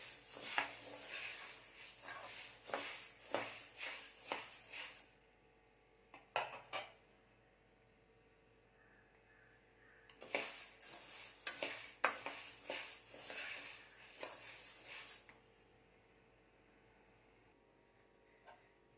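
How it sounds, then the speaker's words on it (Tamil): Moong dal is dry-roasted in a pan over medium heat, with a spoon scraping and stirring the lentils in two long spells of brisk, gritty rustling and clinks. It is close but soft, with near silence in between. "பாசி பருப்பு நல்லா வறுபட்டுருச்சு இந்த மாதிரி வறுபடணும்"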